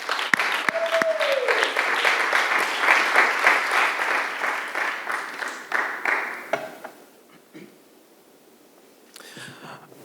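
Chapel audience at Greenville University applauding to welcome poet Micah Bournes, a loud sustained burst of clapping that fades out, followed by a few scattered claps and a murmur.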